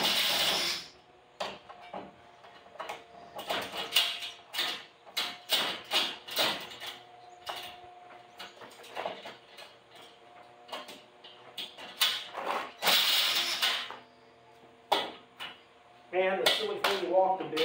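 Drilling into the wood of a carport being converted into a garage, heard as a series of close, uneven bursts of grinding and knocking, with short pauses and a louder stretch near the end.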